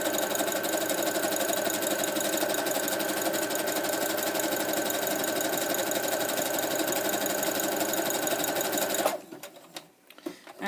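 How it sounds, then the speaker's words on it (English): A sewing machine runs a zigzag stitch down the edge of a seam allowance, a fast steady mechanical whir and rapid ticking for about nine seconds, close and even, then stopping abruptly into quiet handling noises. "I'm going to come over to the sewing machine and I'm going to change it to a zigzag stitch"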